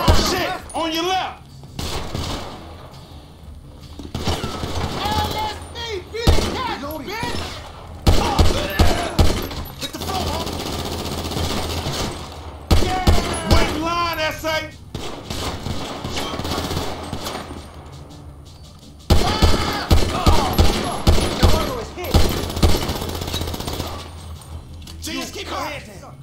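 Rapid bursts of gunfire from a video game shootout, loud and repeated throughout, with machine-gun style volleys and single shots, under excited voices shouting.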